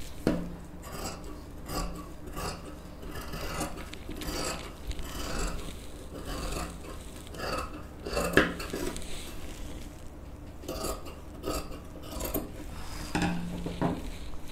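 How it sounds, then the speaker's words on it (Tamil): Scissors cut blouse sleeve fabric with a run of soft snips and scraping rustles close by, blended with light clinks and handling noise, with no voice. "இப்போ இது ஸ்லீவ் வந்து கட் பண்ண போகிறோம்"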